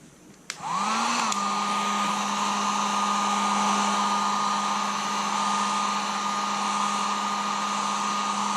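A heat gun switches on and blows steadily with a constant whining hum, close and loud, while warming graphics on a Honda CR125R motocross bike.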